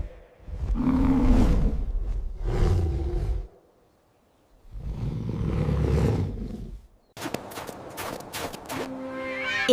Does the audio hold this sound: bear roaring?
yes